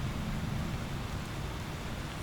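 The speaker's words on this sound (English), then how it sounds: "So this rain should pass fairly soon, and then we can go back to doing stuff." Rain falls steadily in the Icarus survival video game, an even hiss of drops with a low rumbling bed beneath, continuous and with no one talking.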